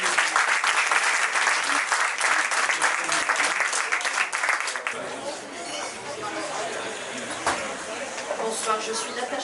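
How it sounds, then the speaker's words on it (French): An audience at a literary festival, Haïti Monde 2022 at the Goutte d'or, claps loudly for about five seconds, then the applause fades into scattered claps and murmuring chatter. "Donc, on applaudit encore Biblis."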